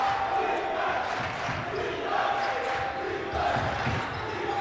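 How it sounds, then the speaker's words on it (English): Philadelphia basketball crowd at a high school tournament game stands cheering, a steady loud roar of voices with shouts rising and falling, a commentator's voice faintly audible within. "Philly crowd on their feet"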